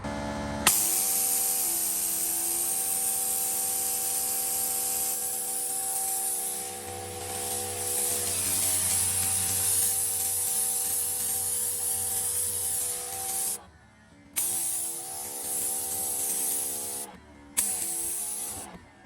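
A Greenworks Pro 3000 psi pressure washer with a surface cleaner sprays a dirty concrete patio, giving a steady loud hissing rush with a low motor hum underneath and two brief cutoffs near the end.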